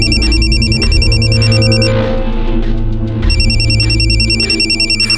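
Loud electronic telephone ring repeating in fast warbling bursts, pausing briefly in the middle before resuming, close and clear over a low musical drone with no talk.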